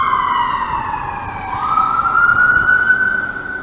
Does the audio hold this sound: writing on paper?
no